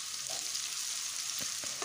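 Okra pieces deep-fry in oil with a dense, even, crackling sizzle close by. A few light stirring taps sound near the end.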